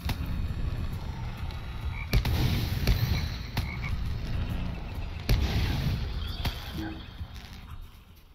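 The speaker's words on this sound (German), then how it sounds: "Kämpf gegen Lobelia die Kröte." A toad in a swampy moor in the Lord of the Rings Online video game, giving repeated low, throaty croaks close up, layered with a few sharp thumping impacts and game ambience, with faint background talk.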